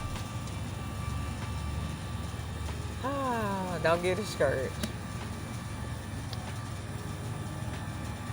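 An air conditioner runs nearby with a constant low hum and hiss throughout, while a person briefly speaks over it in the middle.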